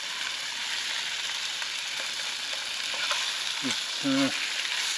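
Food frying in an oiled pan over a camp burner, a steady close sizzle throughout, with a few short scraping clicks of a utensil near the end and a brief spoken word.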